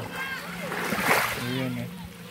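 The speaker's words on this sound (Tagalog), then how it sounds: "ang sarap pakinggan na alon yun" Ocean waves wash and splash on the beach at Bani Island in Lavesares, Northern Samar, making a steady rushing sound behind a person speaking nearby.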